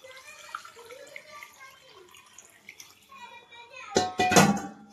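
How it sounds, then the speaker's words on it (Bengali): Water poured into a pressure cooker holding mutton and potatoes, a sudden loud splashing gush near the end after quiet kitchen background. "তো এই জল দিয়ে দিচ্ছি।"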